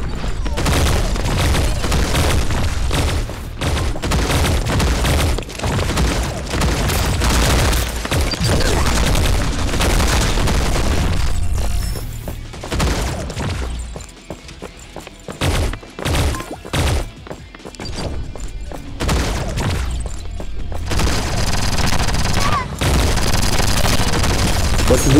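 Gunfire and explosions in the T3 Arena multiplayer shooting game, dense bursts of automatic fire and booms, loud and nearly continuous, with brief lulls and a voice talking over the action.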